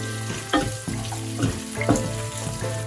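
Garlic, chopped ginger and cashew nuts fry in a pan, giving a steady close sizzle broken by several louder scraping stir strokes. No one speaks.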